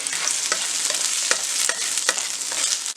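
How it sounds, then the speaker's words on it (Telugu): Carrot and capsicum pieces fry for pasta with a bright, continuous sizzle and repeated scraping stirs close to the pan, with no voices. "క్యాప్సికమ్ ముక్కలు వేసుకొని ఫ్రై చేసుకోవాలి"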